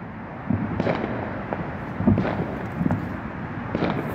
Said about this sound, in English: they are pretty potent for those fireworks that you buy at the 4th of July fireworks stands